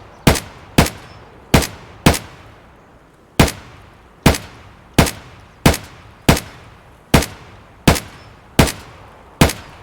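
Gunfire in Escape from Tarkov: a long series of sharp, loud single shots at a fairly even rhythm, about a dozen reports with brief ringing decays and no talk between them.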